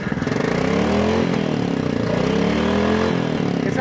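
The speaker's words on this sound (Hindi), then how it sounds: "आप इसका थ्रॉटल दो।" Royal Enfield Classic 500 motorcycle engine held on the throttle, a loud, close, steady thumping exhaust drone that rises and dips slightly in pitch, with no talk over it.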